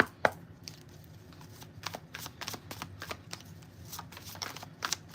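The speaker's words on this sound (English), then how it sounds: "They're telling me to shuffle for this time." A tarot deck is shuffled for a reading: a run of quick, crisp riffling bursts and soft card slaps, close and fairly quiet, one sharper snap near the start and uneven pauses between.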